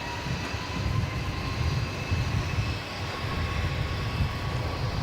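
A Velocity Boeing 737 MAX 8 departs runway 34, its jet engines a broad, sustained rumbling roar heard from a distance, swelling gently with no voices.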